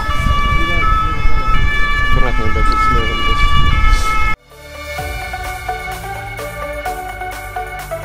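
A loud ambulance siren wails continuously nearby in Berlin, Germany, its pitch sweeping, then the tone shifts to a different siren pattern as traffic rumbles underneath.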